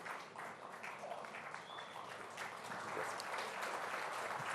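Audience applause fills a conference hall at a televised conclave, a steady, dense wash of clapping from a large crowd that holds fairly even and swells slightly toward the end.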